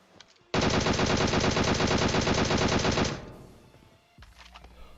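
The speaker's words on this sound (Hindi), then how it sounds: "तो मैं भी गोलियां पेलता हूं।" Sustained rapid burst of PUBG Mobile gunfire for about two and a half seconds, loud and close, followed by quieter scattered shots and rumble.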